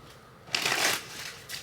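A brief rustling burst of tarot cards being shuffled, close and crisp, followed by a quieter flutter.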